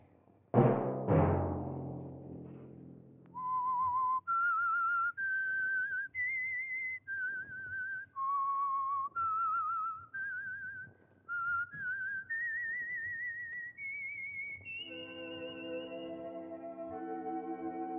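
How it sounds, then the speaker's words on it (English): A lone whistler performs the signature theme of the 1950 radio show The Whistler, a clear, sustained melody of held notes climbing and falling, following two sharp opening hits, with no talk over it. "Let that whistle be your signal for the Signal Oil program, The Whistler"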